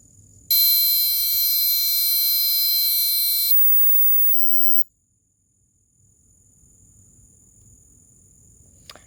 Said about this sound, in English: Activate the alarming sound.